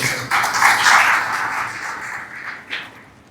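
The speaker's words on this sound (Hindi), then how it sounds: "रोमी शर्मा जी, जोरदार तालियों से जो है रोमी शर्मा जी का" Applause from the audience at a one-day academic seminar in a hall, a broad sustained burst of clapping that swells and then thins out, with a brief final flare near the end and no voices.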